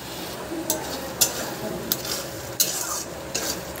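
A spoon stirring milk with palm fruit, sugar and grated coconut in a pan, soft sizzling bubbling under sharp scrapes and taps at a steady pace, close with no talk.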